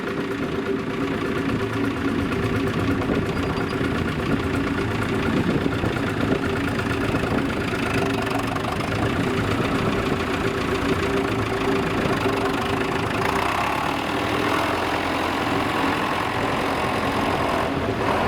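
A David Brown tractor in excellent condition, said to come from France, idles steadily nearby, its engine rumbling with an even, continuous mechanical knock throughout, loud and unbroken with no talk over it.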